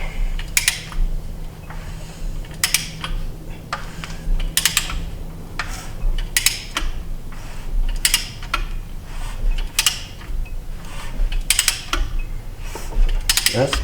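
A 1982 Chevy Silverado C10 engine being turned over by hand, giving repeated sharp ratcheting clicks in short bursts, roughly every second or so, close and clear over a low background hum.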